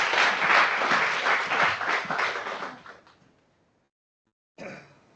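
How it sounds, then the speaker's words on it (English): Audience applause welcoming a lecturer at a lecture series, steady broadband clapping for about three seconds that tapers off into silence, followed by a brief burst of sound near the end. "Let's give a round of applause"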